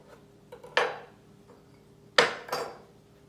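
A knife drawn around the edge of a pie crust in a baking dish, shaping a hot dog pie, gives two sharp scraping clatters against the dish with a few softer taps between, close up and quiet, with no talking.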